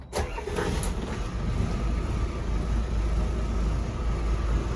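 A Regal Commodore 272 motor boat's engine fires up after a short cranking burst, then settles into a loud, steady, even idle rumble close by.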